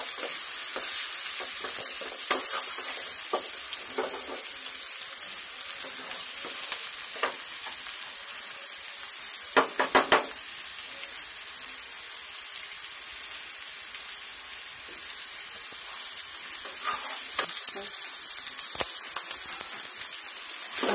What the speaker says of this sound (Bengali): এখন হ্যাঁ ডিমটা ঝুরি করে নিলাম